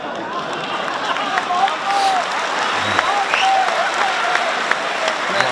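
A large crowd applauds continuously, a dense wash of clapping with some voices and whistles mixed in.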